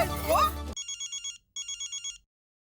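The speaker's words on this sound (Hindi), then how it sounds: "दया भाभी, जेठा भाई को फोन लगाइए और जल्दी पूछिए ना कहाँ पहुँचे" A brief voice, then a telephone ringing in two electronic bursts of rapid trilling tones, followed by silence.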